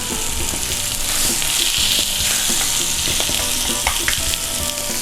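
Short ribs sear in a hot pan for braising in red wine, a loud, steady sizzle that fills the moment, with a few clinks and scrapes of utensils against the pan and no talking.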